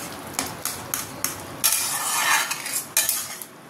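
Mango chutney cooking in a pot, stirred with a metal spoon: sharp clinks against the pot roughly every half second, then a soft bubbling sizzle swell in the middle, close and alone.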